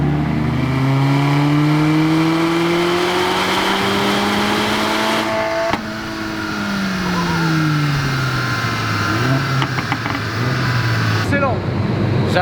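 A Mercedes-AMG A45 engine on a dyno, stock engine and exhaust, revs hard and steadily, its pitch climbing and falling through sustained loud pulls, with a brief dip midway before it winds up again.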